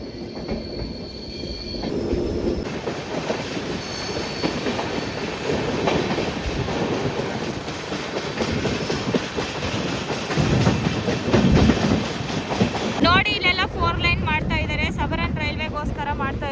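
The Mantralayam Express runs along the tracks near Yeshwantpur Junction with a steady rumbling roar, wheel clatter and wind noise, loud and close throughout, ending in a burst of sharper rhythmic clacking as it passes points.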